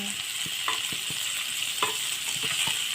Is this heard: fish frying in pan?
yes